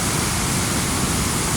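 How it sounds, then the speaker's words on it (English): Water falling into a crack in rock: steady, loud, broadband rushing and splashing like a small waterfall, constant throughout with no voices. "that is another crack full of water that is presumably falling water into it"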